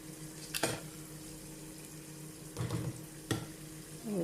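Chicken pieces drop into hot oil in a kadhai, giving a steady low sizzle broken by a few sharp spattering bursts and splashes, with no talking.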